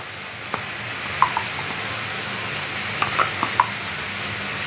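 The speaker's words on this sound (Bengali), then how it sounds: "টমেটোটা একদম তেলের মধ্যে দিলাম" Tomato sizzles in hot oil in a pan while beetroot and potato curry cooks: a steady, close frying hiss with a few small pops and crackles scattered through it.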